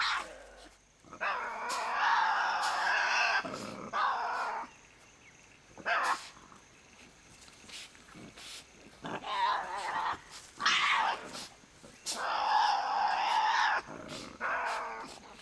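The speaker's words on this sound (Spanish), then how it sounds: "El efecto disuasorio de estos gruñidos protegió a animales de corpulencia limitada, como los diablos" Tasmanian devils in a forest let out harsh, rasping growls and screeching snarls in repeated loud bursts, separated by short quiet gaps, close and unaccompanied by talk.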